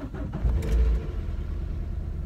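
Car engine making an odd, unhealthy sound: a brief low rumbling surge that swells and fades, followed by a steady low idle hum, close by.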